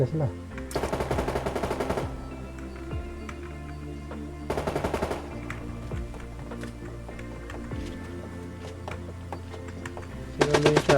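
Shotgun fire in the Knives Out battle royale game comes as short loud bursts of rapid shots at intervals over game sounds, with a final burst at the end.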